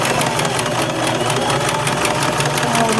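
A sewing machine runs steadily, back stitching along an exposed zipper on a ruched dress, a loud, close, continuous rapid mechanical whir with no talking.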